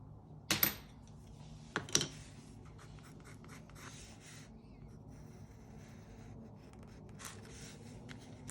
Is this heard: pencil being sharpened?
yes